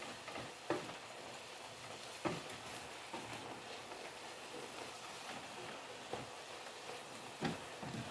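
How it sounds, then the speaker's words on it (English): Mushrooms and seasoning are stirred in a cooking pan for a garden-fresh pasta sauce, giving a faint steady sizzle with a few soft scraping knocks spaced across the clip. "Get our mushrooms, stir it around, the seasoning."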